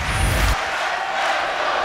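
A crowd of 3,500 roars in a volleyball arena during a close match. The loud cheering surges at first, then settles into a broad, sustained crowd noise.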